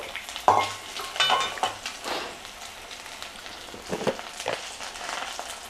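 Ivy gourd (dondakaya) pieces, already fried, are stirred in a hot pan, giving a close, steady sizzle with scraping stirs and a few sharper crackles, no voices.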